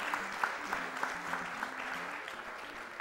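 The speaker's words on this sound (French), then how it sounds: "Je pense qu'ils applaudissent" An audience at a speedrunning marathon event claps in steady applause that stays even and moderately loud throughout, with no voices standing out.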